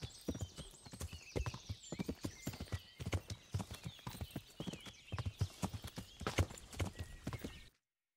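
Steady rhythmic clip-clop of horse hooves at a brisk gait in the video game Kingdom Come, continuous and fairly close, ending abruptly, with no voices.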